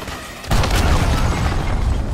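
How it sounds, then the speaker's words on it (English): A cruise missile detonates in the Call of Duty: Modern Warfare multiplayer shooter game with a sudden loud boom, followed by a heavy, sustained rumbling roar. "Enemy cruise missile incoming."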